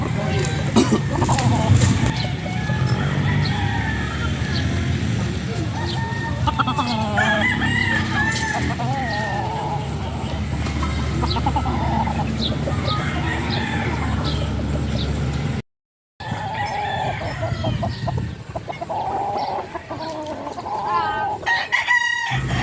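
Roosters and hens at a backyard breeding pen crow and cluck repeatedly, the birds close and loud, with people talking over and between the calls throughout.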